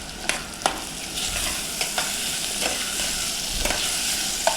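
Chopped ridge gourd and washed lentils are stirred in a pan over a steady sizzle of frying, with sharp spoon taps against the pan scattered through it, close up and with no voices.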